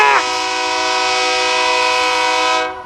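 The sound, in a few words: terminal railway single-engine train passing by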